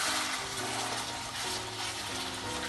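Hot water, about two measuring cups, pours into a pot of chicken curry with bone-in legs, a steady close gushing rush that runs unbroken from start to finish.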